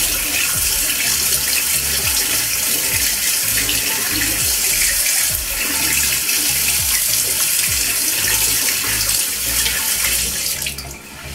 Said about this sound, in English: I'm just gonna press the button here and rinse the foreo before I rinse my face.